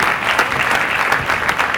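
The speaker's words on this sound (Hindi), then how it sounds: "मैं आदित्य को भी आप लोगों से दरखास्त करता हूं कि जोरदार तालियों से आदित्य का भी" Loud, dense clapping from an audience at a Khadi Mahotsav fashion show, steady and sustained for the whole stretch with no voices rising above it.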